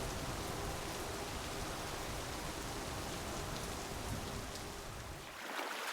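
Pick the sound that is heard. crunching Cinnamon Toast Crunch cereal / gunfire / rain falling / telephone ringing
rain falling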